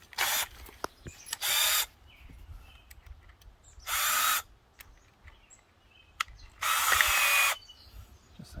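A power drill whirs in four short bursts, two quick ones close together, then two longer ones, with quiet clicks and handling noise between.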